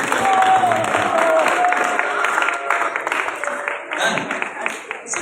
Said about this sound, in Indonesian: Mari kita berikan tepuk tangan sekali lagi terakhir untuk pasukan orang yang telah memberikan.